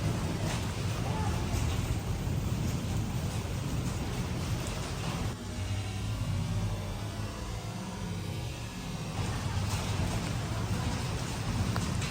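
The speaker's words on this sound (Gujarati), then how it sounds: "અને વરસાદ બતાવું તમને બહાર" Heavy rain falls outside in a steady, hissing downpour that fills the whole stretch and dips briefly in the middle before returning at full strength.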